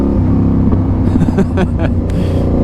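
A motorcycle engine revving hard at full throttle, a loud, close, continuous roar with rising harmonic pitch that surges and dips over a few seconds.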